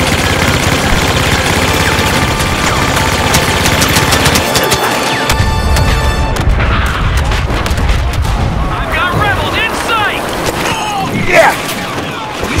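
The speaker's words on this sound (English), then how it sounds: "Unloading the bombs." Bombs dropping in Star Wars Battlefront on Bespin, heavy continuous booming explosions and gunfire rumbling loud and dense throughout, with some chatter mixed in.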